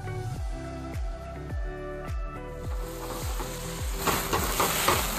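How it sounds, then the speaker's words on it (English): Argentinian shrimp frying in a pan for supper at a deer camp in Alberta, a soft steady sizzle joined by repeated stirring scrapes of a utensil, the crackle thickening toward the end. "And Cousin Wes cooked up a pan of Argentinian shrimp for supper."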